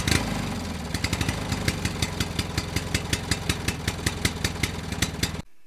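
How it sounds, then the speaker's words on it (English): An old car engine is hand-cranked and catches, settling into a rapid, regular mechanical clatter of evenly spaced beats that runs steadily before cutting off abruptly. "this is the start of a car engine"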